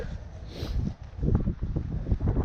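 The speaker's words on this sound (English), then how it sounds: "it's very windy and cold" Strong, cold wind at a campsite in Glacier National Park buffets the microphone in a steady low roar that surges and dips, loud and close, with no voices.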